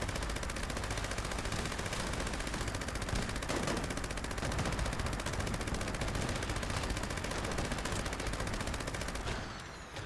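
A Bloodied Gauss minigun firing in the video game Fallout 76, an unbroken rapid stream of shots at steady loudness that holds for nearly ten seconds before tapering at the end.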